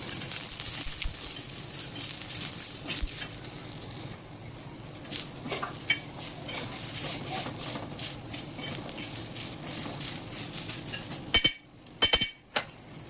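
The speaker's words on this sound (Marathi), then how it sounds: "कांदा छान तेलामध्ये परतला आहे" Thinly sliced onions frying in oil in a pan, a steady close sizzle with occasional spatula scrapes and a few sharp metallic clinks near the end.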